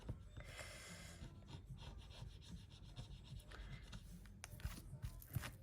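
A scratch-off savings challenge card being scratched, close-up rubbing and scraping strokes in irregular bursts, quiet overall.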